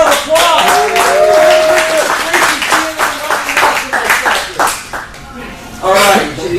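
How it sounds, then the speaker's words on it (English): Crowd clapping at an anniversary event in Stockton, a lively burst of hands mixed with loud voices speaking and calling out over it, swelling and dipping before a final surge. "Just stand there with another big round of applause"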